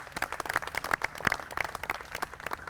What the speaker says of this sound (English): You can definitely clap for that